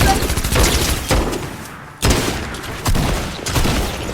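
Rapid bursts of gunfire from the video game Fortnite, loud and dense, with repeated volleys and heavy impacts that swell and drop over a few seconds, close up and busy.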